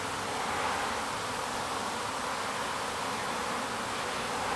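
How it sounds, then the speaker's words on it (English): Dense, steady buzzing of many honey bees flying in and out of a hive entrance on a sunny day, a continuous hum with no pauses, moderately close and fairly soft. "there's lots of bees coming and going"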